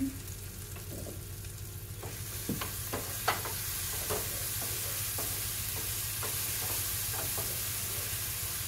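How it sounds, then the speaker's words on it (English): Onion, tomatoes and peppers sautéing in a pan, a soft steady sizzle under repeated clicks and scrapes of a utensil stirring, close and fairly quiet. "We've got the onion, tomatoes, and peppers sauteed."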